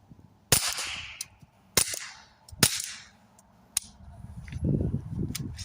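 Gunfire through an AAC Element 3 suppressor: three sharp, clipped reports roughly a second apart, then a lighter metallic click and a low rustle of handling afterward.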